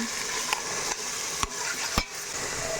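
Yogurt being stirred into mutton pieces in a cooking pot, a steady low sizzle with a few spoon scrapes and knocks against the pot, close and alone.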